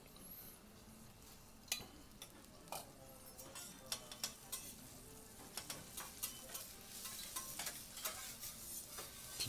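Onions frying in a pan, a steady sizzle with scattered stirring scrapes and clinks of utensil on the pan, close and fairly quiet with no talk.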